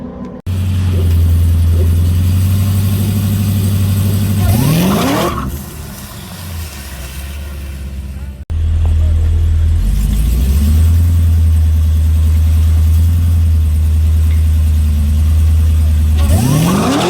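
A drag car at the strip launches at 1400 RPM on 26 PSI tires with an old tune and lots of ice: a loud, sustained engine roar that drops briefly mid-run, then a second roaring pull with rising pitch sweeps near the end.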